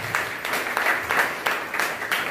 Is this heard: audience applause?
yes